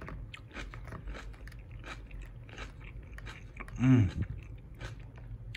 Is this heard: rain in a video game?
no